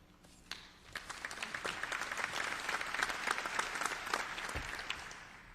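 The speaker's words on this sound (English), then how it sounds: "y'all don't have to clap for the person doing the benediction" An audience at a city oath of office ceremony breaks into applause, swelling from a few claps into a sustained crowd ovation, heard from a moderate distance.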